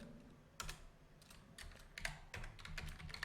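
Code is typed on a computer keyboard in short irregular bursts of close, crisp key clicks, quiet and alone.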